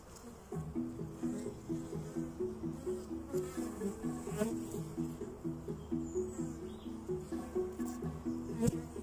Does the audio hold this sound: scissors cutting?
no